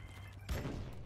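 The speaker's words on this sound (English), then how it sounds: "That was a grenade" A grenade goes off in a video game: one muffled, low boom with a short rumbling tail, fairly faint in the mix and heard without talk.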